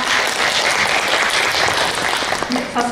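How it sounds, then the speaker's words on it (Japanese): Audience applause after a presentation at a Japanese talk event, dense and steady for three seconds with a few voices faintly audible beneath it. "皆様拍手をお願いします"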